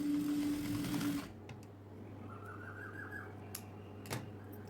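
A domestic sewing machine runs briefly while stitching the lining of a churidar with an edge stitch, then stops and leaves a quiet room with faint clicks and a low hum.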